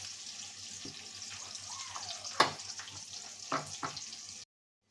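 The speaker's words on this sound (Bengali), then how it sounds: "আমি এখন পেঁয়াজটা আগে বেরেস্তা করে নেব" Sliced onions fry in hot oil until crisp and golden for a Bengali chicken fry dish, a steady close sizzle with a few sharp clinks and scrapes of a utensil.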